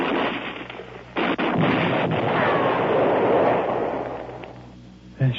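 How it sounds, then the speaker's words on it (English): A grenade blast in a war film makes a loud, sustained roaring rumble that swells and then fades, with a sharp burst near the end and no speech over it. "Grenade, Lieutenant. Grenade."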